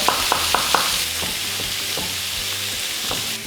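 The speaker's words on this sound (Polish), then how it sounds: "Pięknie słychać jak skwierczy. Obsmażam na mocnym ogniu" Pork searing in fat in a pan over high heat, a steady loud sizzle with a few sharp crackles and pops near the start, continuous throughout with no talking.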